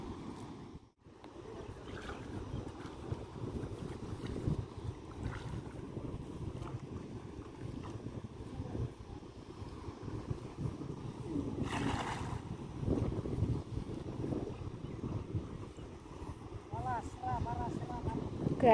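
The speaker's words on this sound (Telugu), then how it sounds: "గాలి ఇసురుగా ఉంది ఈరోజు." Strong wind gusts outdoors beside open water during a prawn-fishing trip, rushing and buffeting the microphone continuously while people talk over it.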